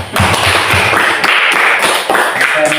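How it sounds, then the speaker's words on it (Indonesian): A classroom of students claps for a group that has just presented, a dense, steady patter of many hands close by that runs throughout. "Kita tepuk tangan."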